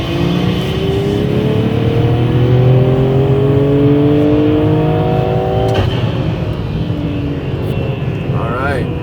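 A big-turbo BMW M340i running E85 accelerates hard, its engine note climbing steadily and loudly for about six seconds, then dropping abruptly at a gear change before pulling again.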